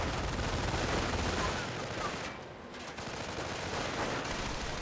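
Distant gunfire and explosions from a Company of Heroes 1 multiplayer battle, a dense continuous crackle of machine-gun and rifle fire that briefly thins before resuming.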